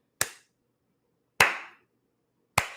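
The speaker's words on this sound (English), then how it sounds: "She comes downstairs clapping in slow mo." Three sharp, isolated claps from a Big Brother houseguest coming downstairs, spaced slowly about a second apart, crisp and close against silence.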